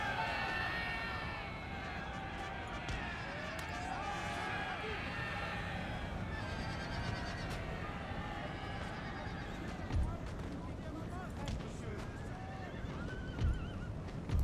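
Cossack cavalry horses in Napoleon: Total War's Battle of Borodino whinny repeatedly over rolling hoofbeats and a galloping rumble, with faint crowd noise and a voice talking over the battle din.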